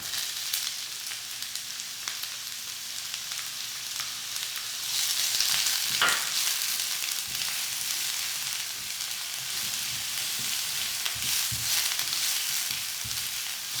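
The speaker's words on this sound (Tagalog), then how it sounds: "Haluin lang natin at ilalagay ko na rin kagad yung sibuyas." Onion and pork sautéing in a pan for Filipino pork menudo make a continuous close sizzle with a few brief stirring scrapes, and no voices.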